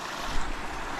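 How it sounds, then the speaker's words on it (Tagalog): Strong current of a river rushing beside a bridge, a steady broadband wash of flowing water with a low rumble, close and continuous with no voices. "ang lakas ng tubig ngayon"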